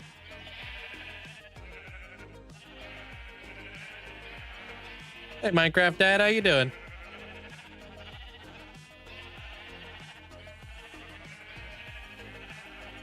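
Sheep in Minecraft bleat in a loud, close burst of several overlapping cries lasting about a second, partway through steady in-game background sound and someone talking.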